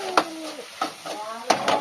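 Mutton pieces frying in a pan make a close sizzle broken by several sharp stirring scrapes and clinks at irregular intervals, with brief voices faintly in the background.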